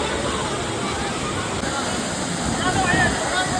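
Clear water flows steadily at George Everest in Mussoorie, Uttarakhand, a dense, continuous rushing wash filling the scene at even loudness, with faint background voices mixed in.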